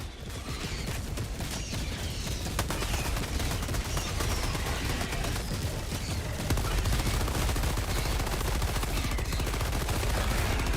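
A Helldivers orbital barrage pounds down in a dense, unbroken stream of heavy blasts and rapid impacts that keeps rolling loudly for the whole stretch, with no voices over it.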